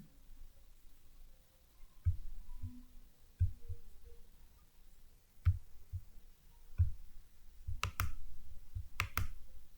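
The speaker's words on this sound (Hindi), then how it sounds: "यहाँ क्लिक करने के बाद हम राइट क्लिक करेंगे" A computer mouse clicks sharply and sparsely while working in an Excel spreadsheet, including right-clicks: isolated close clicks spread across the stretch, several in quick pairs near the end, over a quiet background.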